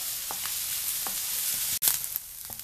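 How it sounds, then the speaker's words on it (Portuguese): Onion and pepper sauté in a pan, a soft steady sizzle with a few faint stirring scrapes and one brief sharp clatter near the end, no voices. "Deixa ela refogar bem aí a gente volta"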